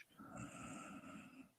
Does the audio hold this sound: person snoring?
yes